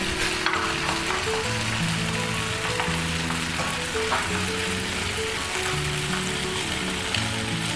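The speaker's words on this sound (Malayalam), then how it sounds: "വീണ്ടും അച്ച് എണ്ണയിലിട്ട് ചൂടാക്കുക." An achappam mould for the traditional Kerala snack heats in hot oil, giving a dense, continuous bubbling sizzle that stays loud and even throughout, with no voices.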